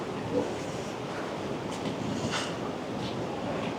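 Surf washing in at Suluban Beach, a small secluded beach among rocks at Uluwatu, Bali, heard as a steady, broad wash of waves with gusty wind buffeting the microphone and no voices.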